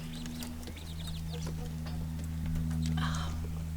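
Hens on an Australian homestead cluck and chirp faintly in short scattered calls over a steady low hum, with people talking nearby.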